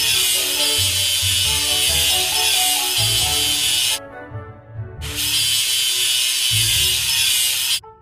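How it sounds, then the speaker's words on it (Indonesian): A power grinder works over weld seams on a large ship: a loud, steady, high-pitched abrasive whine that cuts out briefly, then starts again at full intensity. "Ayo asah sambungan lasnya."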